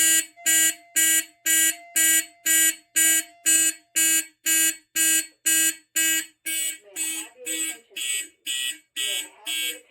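A Notifier NFS2-640 fire alarm system sounding during a test, with loud, evenly spaced horn-like tone pulses repeating steadily about twice a second, and a voice announcement starting over the later pulses.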